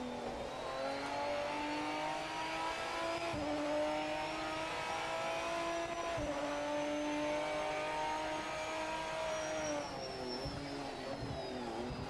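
A Lamborghini Murcielago race car engine in the Project Motor Racing game drones steadily for the whole stretch, its pitch sliding up and down through gear changes, with no talk over it.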